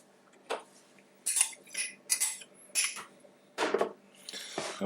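Cheese and whipping cream stirred in a pot, heard as a series of separate scraping and clinking strokes of a utensil against the pan, each short and close, with quiet gaps between them.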